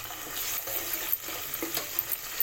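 Ginger garlic paste and curry leaves fry in a pan with a soft, steady sizzle, broken by a few faint stirring scrapes and clicks.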